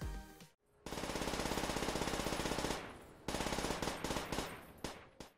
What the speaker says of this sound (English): But it all started with COD 4 and the M40A3. Now, I think it is the most recognizable firing sound in that game.